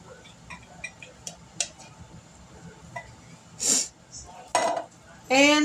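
Canned corn dumped into a pot while making semi-homemade chili mac: faint clinks and taps of a can and utensil against the pot, then a few louder wet scraping, sliding bursts near the end, all fairly quiet.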